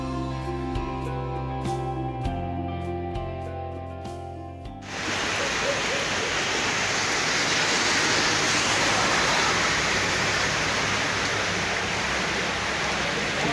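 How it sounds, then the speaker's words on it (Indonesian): Rain falls steadily during a mountain hike on Gunung Slamet, a dense, even hiss that comes in abruptly after a few seconds of music and then continues loud and unbroken. "Sudah terlanjur basah, malah hujan."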